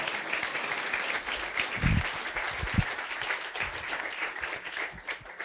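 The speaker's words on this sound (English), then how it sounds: "So please, would you give them an applause?" An audience applauds steadily and fairly softly at a presentation of "Haiku on a Plum Tree" at New York University, a continuous dense patter of hand claps with no voices.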